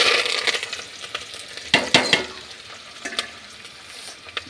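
Onion and curry leaves fry in hot oil with a steady crackling sizzle. There are a few bursts of louder spattering and stirring in the middle, and no voices.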